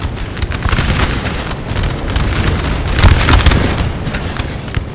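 Massed musket volleys crackle and boom continuously in a Napoleonic-era battle in Napoleon Total War at Almonacid, 1809, dense overlapping gunfire with low rumbling thumps, loud and sustained throughout.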